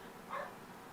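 A dog barks once outside a house, a single short muffled bark heard from a distance over faint background noise.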